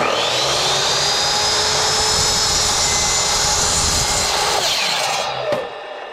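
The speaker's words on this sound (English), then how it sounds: "you can use your Ryobi 10-inch saw here to cut your 4x6." A Ryobi 10-inch saw cuts through a 4x6 wooden beam with a loud, steady motor whine for about five seconds, then winds down and stops near the end.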